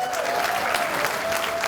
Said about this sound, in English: Round of applause for King County Councilmember Larry Gossett.